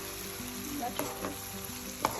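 Chicken shashlik gravy cooks in a pan with a continuous close sizzle, broken by a few sharp clinks and scrapes of stirring.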